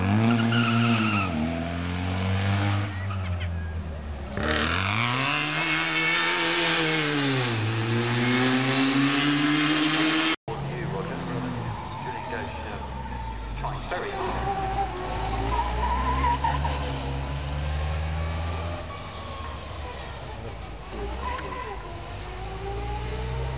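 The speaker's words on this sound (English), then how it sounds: "They do sound like huge lorries. Four and a half litre Bentley." Four-and-a-half-litre Bentley racing cars at a Prescott hill climb roar and accelerate with deep, lorry-like engine notes that rise and fall in pitch through gear changes, loud and close, with some voice in the background.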